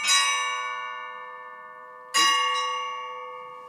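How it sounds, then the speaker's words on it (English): A church bell in Antarctica rings out, its clear tone slowly fading, then strikes again about two seconds later with a long, resonant decay. "hear the church bells ringing"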